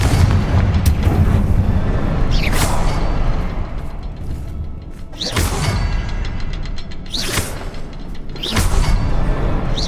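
In Hogwarts Legacy, the Confringo fire spell sets off a series of four or five booming explosions at irregular intervals, loud and close, each a sharp blast with a rumbling tail.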